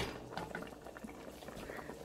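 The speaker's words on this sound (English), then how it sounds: "once you get things boiling" A pot of salmon soup with celery and vegetables bubbles at a steady boil, a soft continuous liquid simmer heard close and alone.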